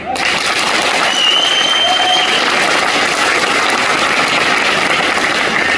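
An audience applauds with sustained, dense clapping that starts abruptly and holds loud and steady throughout, a broad wash of many hands from a crowd at a motivational talk.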